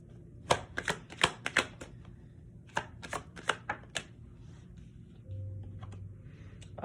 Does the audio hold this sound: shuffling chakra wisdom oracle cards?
yes